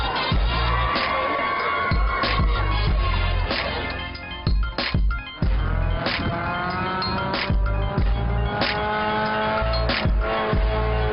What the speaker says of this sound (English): The car, it flips like a skateboard.